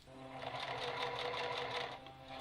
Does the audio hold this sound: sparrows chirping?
no